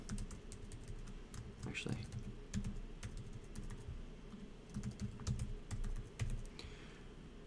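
A spending password is typed on a computer keyboard in quick irregular bursts of close, crisp key clicks, with a brief spoken word partway through.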